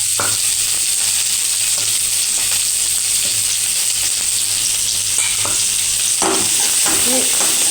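Chopped onions fry in oil in a pan while a fish curry is being cooked, giving a loud, constant sizzle. Occasional soft stirring scrapes sound throughout, with no talking.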